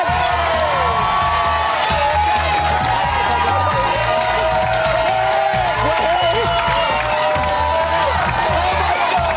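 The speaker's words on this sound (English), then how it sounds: "Give him a big round of applause" Studio audience at a live UK celebrity reality-show final cheering, whooping and applauding in a loud, continuous roar that fills the whole stretch.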